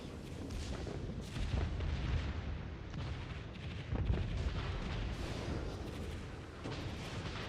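Warship secondary guns fire again and again in World of Warships from the Friedrich, a rapid run of booming, crackling shots layered over a constant battle rumble, with a heavier blast about a third and halfway through.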